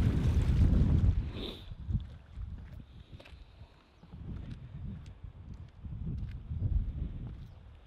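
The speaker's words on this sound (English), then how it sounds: "The wind is insane up there." Strong gusting wind buffets the microphone on an exposed mountain summit in England's hill country, a loud rumbling roar in uneven surges that rise and fall throughout.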